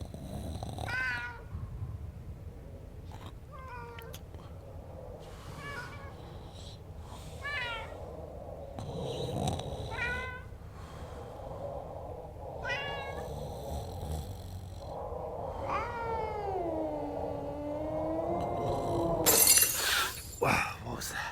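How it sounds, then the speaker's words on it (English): A house cat meows repeatedly at scattered moments, followed by a loud crash of something being knocked over near the end, with low background noise throughout. "It's just the cat."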